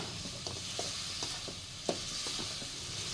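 Tomatoes sautéing in a pan for a chicken curry, a steady close sizzle with soft scrapes of stirring at irregular intervals and one sharper knock near the middle, no voices.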